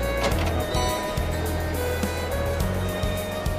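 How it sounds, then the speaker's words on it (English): A train rumbling past in the video game Trails of Cold Steel, a steady low mechanical drone with faint clanks, continuous and moderately loud through the short stretch. "No, that's a train. There was a train that just passed by."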